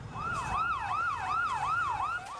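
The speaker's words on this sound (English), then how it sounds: "Ambulances hurtled through the ruined streets." An ambulance siren wails in a steady rising-and-falling cycle through damaged city streets after a major explosion in Lebanon, moderately distant and heard alone without speech.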